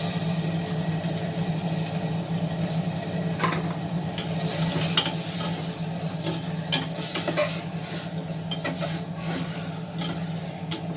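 Broad beans and tomato stirred together in a hot pan, with a soft continuous sizzle under repeated scraping strokes of a spoon, close and even, with no talking.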